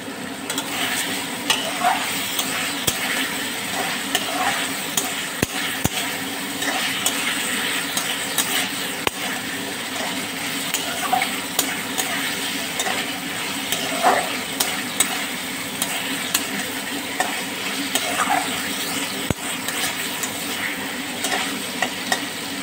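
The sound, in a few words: boiled eggs with salt and turmeric frying in pan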